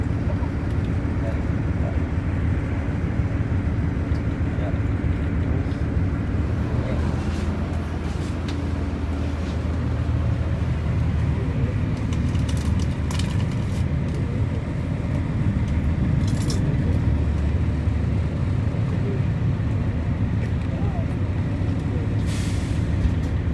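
Busy Terminal Kalideres bus station crowded with holiday travellers, a dense continuous roar of idling bus engines and traffic with repeated sharp air-brake hisses, and people talking underneath.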